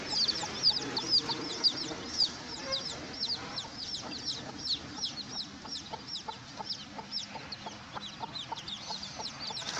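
A hen clucking as she is carried along with her chick in a village, a rapid run of soft repeated clucks and chirps, close and steady over faint background rustle.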